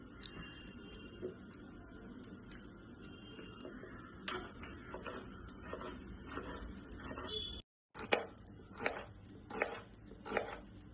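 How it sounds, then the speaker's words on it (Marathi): A knife thinly slices onions lengthwise on a board, giving faint, irregular tapping cuts in a quiet kitchen, with a short pause before a few sharper chops. "कांदे आपण उभे पातळ कापून घ्यायचे आहेत."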